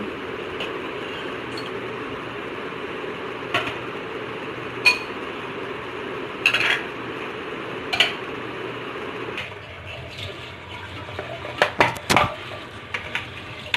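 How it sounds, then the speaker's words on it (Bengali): Dinner plates and dishes cleared from a home dining table after a meal, giving scattered light clinks and knocks of crockery over a steady background hum, with a few sharper clatters near the end. "খাবার প্লেটগুলো আমি এবার দিয়ে রেখে দেব"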